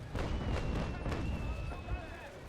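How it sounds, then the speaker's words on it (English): Cannon broadside fired from the stern of a sailing warship in the naval combat game Naval Action: a rapid string of deep, booming gun reports rolling into one another, followed by a fading low rumble. "Fire the next broadside."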